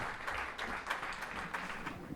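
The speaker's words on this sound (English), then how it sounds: "Please keep clapping till they come on stage." Applause from an audience at a Republic Day radio broadcasting session at a festival, steady broadband clapping sustained for a couple of seconds at moderate distance, no voices over it.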